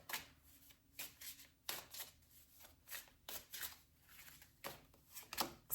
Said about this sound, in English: we're just going to take 2 of these Oracle cards